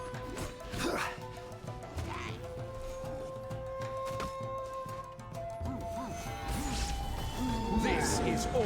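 A dog barks and yips repeatedly in the video game Genshin Impact, sharp bursts mixed with crashing combat effects and game music, with a voice talking over it.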